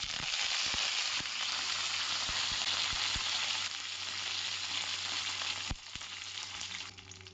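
Curry leaves sizzle and crackle in hot oil while cooking savige bath, a loud, steady frying hiss that fills the whole stretch with occasional pops and a brief dip near the end.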